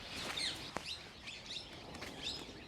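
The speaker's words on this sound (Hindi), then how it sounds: "वहाँ देखो चिड़ियाएँ।" Small birds chirp and tweet among trees in Vrindavan, a scatter of bright, high calls repeating every half second or so at moderate distance over a soft outdoor hiss, with one sharp tap midway.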